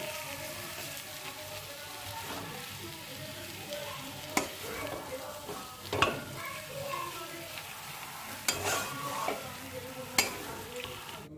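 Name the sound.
mixing paneer stuffing with chilli, coriander, lemon juice, pepper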